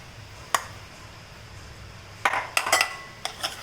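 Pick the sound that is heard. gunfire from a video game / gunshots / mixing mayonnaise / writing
mixing mayonnaise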